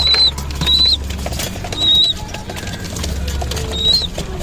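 Pigeons bathing in a water dish flap their wings in short, loud bursts nearby, repeated several times, with soft patter and bird chirps between the flurries.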